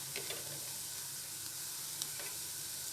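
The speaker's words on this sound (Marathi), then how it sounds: "हे चांगलं पुन्हा 5 मिनटं तेलात परतून घ्यायचं" Corn and peas sauté in hot oil with a steady, gentle sizzle and occasional soft stirring scrapes, close and moderately quiet, with no voices.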